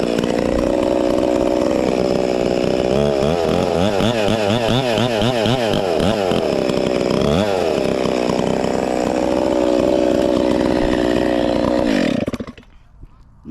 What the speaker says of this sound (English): So all I'm gonna do, take my chainsaw.